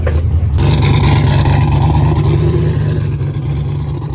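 A turbocharged Mustang with a transmission problem is driven, its engine a loud, close, continuous low roar with a rising rumble throughout.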